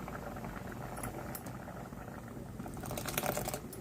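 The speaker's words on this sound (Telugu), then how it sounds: "ఉడుకుతుందండి" Dal boiling in a pot on the stove for Andhra-style sambar, a steady close bubbling simmer with soft popping that swells slightly louder toward the end, no voices.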